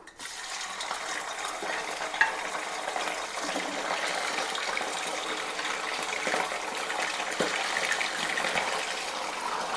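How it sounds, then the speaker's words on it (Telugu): Chicken pieces fry in hot oil in a home kitchen as pickle is being made. A continuous crackling sizzle with scattered pops carries on steadily and close by, with no talking over it. "ఆయిల్ అయితే హీట్ అయిపోయిందండి ఇప్పుడు మనం చికెన్ వేసుకుని ఫ్రై చేసుకుందాం"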